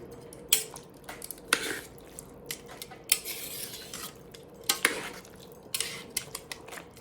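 A pot roast is flipped in a pot, with scattered metallic scrapes, clinks and wet squishy shifts of meat, some louder knocks standing out over quiet gaps.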